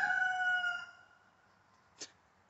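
A rooster crows once, loud and close, its call trailing off after about a second, followed by quiet and a brief faint knock.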